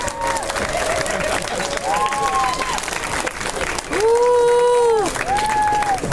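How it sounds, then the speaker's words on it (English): Audience applause and cheering at an arcade expo costume contest, crowd clapping loudly throughout while whistling or squealing tones rise and fall above it. "Let's hear some applause, people."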